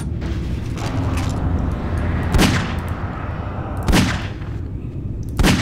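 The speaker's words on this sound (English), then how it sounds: "I just wasted 3 bullets of my revolver" Three revolver shots ring out in Nightmare House 2, sharp loud cracks spaced over a couple of seconds against a rumbling background.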